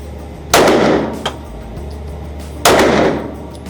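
Two loud, close pistol shots from a Taurus GX2 handgun firing 115 grain rounds, about two seconds apart, each a sharp crack with a ringing outdoor decay.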